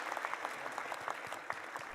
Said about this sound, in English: Round of applause for founder number 2.